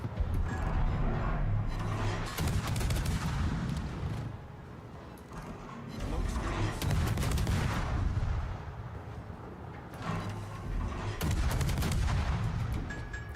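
Naval guns fire from warships in World of Warships, loud booming salvos that roll over a constant rumble of battle, with heavy bursts coming in waves about every few seconds.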